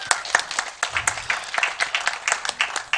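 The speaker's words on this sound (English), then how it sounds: "All right, a round of applause." Panel audience clapping, a fairly sparse round of individual hand claps with an uneven rhythm, close and moderately loud, with no one speaking over it.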